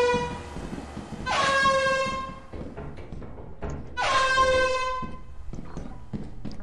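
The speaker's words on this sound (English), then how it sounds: "There's an air horn in here." Two loud, blaring air horn blasts in the video game Lethal Company, each held for about a second with rich harmonic tones, separated by a short pause with some background clatter.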